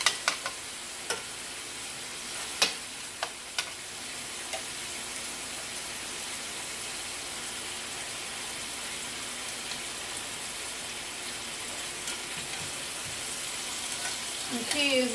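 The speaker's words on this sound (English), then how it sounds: "I'm going to add some of my little thighs over here to this other pan. So get everybody cooked brown." Chicken thighs fry in a pan with a steady, even sizzle throughout, broken by a few sharp clicks and taps near the start and a brief stir at the end.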